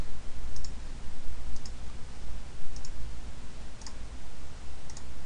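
Five evenly spaced mouse clicks ring out over a steady room hum as someone connects a Windows 98 computer to the internet.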